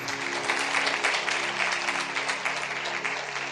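An audience at a Sikh sermon with Sant Sunder Lal Ji claps loudly together, a steady dense patter of hands lasting throughout at even strength.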